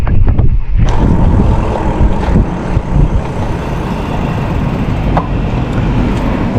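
Traffic rumbling past on a road near a stop sign, broadband vehicle noise with a louder pass early on and steady wind-buffeted roar throughout, no talking.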